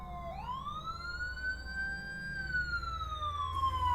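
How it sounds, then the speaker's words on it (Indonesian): Police car and ambulance sirens wail past on a street, a loud rising and sweeping electronic tone that stays strong and close throughout over a low traffic rumble. "tampak mobil polisi dan sirene ambulan yang meraung-raung melewati kami"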